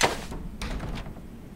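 Doors being unlocked in the video game Neverwinter Nights 2 give a short run of dull wooden thumps and clunks: one heavy knock, then a few softer ones close together.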